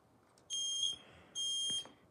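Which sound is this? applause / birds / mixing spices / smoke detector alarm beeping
smoke detector alarm beeping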